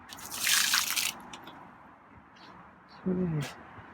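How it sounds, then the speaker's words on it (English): Water from a cat's dish is dumped into a house plant: a brief splashing gush at the start, then quiet dribbling, with a short voiced sound near the end. "So, I'm gonna get up, okay? So I'm gonna put the blood down and I'm gonna dump out your water. So I'm just dump it in this plant here."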